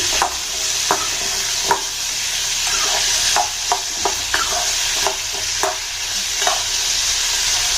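Tomatoes frying with small onions in a pan for a thin South Indian chutney, a loud continuous sizzle with regular spatula scrapes and taps recurring every second or so.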